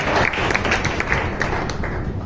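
A church congregation claps hands during a sermon, a steady dense patter of many hands close by that carries on without a break, with no speech over it.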